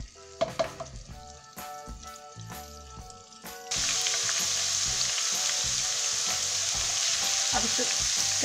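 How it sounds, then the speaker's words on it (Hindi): Clattering and tapping come first, then ginger garlic paste hits hot oil and a loud, dense sizzle starts abruptly and carries on steadily to the end. "अब उसके अंदर अदरक लहसुन का पेस्ट डालेंगे 1 tablespoon। इसको पहले फ्राई करेंगे।"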